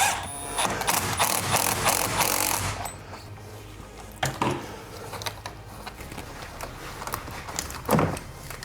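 Ratchet wrench loosening the negative battery terminal on an FL5 Honda Civic Type R, a burst of fast clicking ratchet strokes up close followed by scattered metallic clinks and handling noises.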